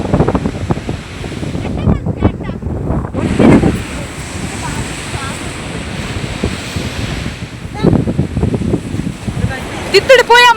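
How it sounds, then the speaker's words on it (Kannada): Strong wind buffets the microphone on a beach, roaring steadily with surf rolling underneath, while people talk over it. "ಗಾಳಿ ಅಂತೂ ಮಸ್ತ್ ಉಂಟು"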